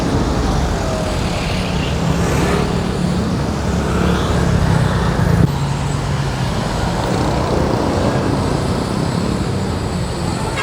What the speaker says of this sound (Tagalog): Grabe yung traffic dito.